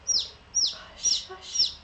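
Chickens of a Japanese breed cluck and chirp in four short, bright calls spaced about half a second apart, fairly close and moderately loud, with no talking.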